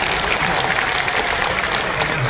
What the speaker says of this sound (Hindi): चलिए एक बार तालियां बजा दीजिए भैया के।